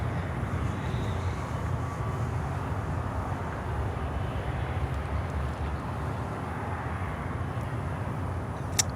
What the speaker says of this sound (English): now we have a 777 coming in here on runway 12, and we have a 757 coming in here on runway 9